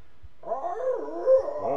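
A voice imitates a strange, loud animal bark heard on a hiking trail, producing a wavering, howl-like yowl that rises and falls for under two seconds.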